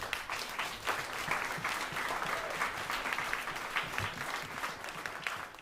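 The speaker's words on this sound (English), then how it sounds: "I'd like to ask for a applause for them and all the many other volunteers who helped to make this possible today." An audience at a klezmer jam and concert claps steadily for the sponsors and volunteers, a continuous, fairly quiet patter of many hands heard from a distance in the hall.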